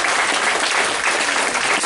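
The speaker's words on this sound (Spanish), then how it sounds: "Un fuerte aplauso para agradecer a la maestra Melba Adriana Olvera Rodríguez" An audience at a human rights and peace event applauds, a dense, sustained wash of clapping from many hands at close range, loud and even throughout.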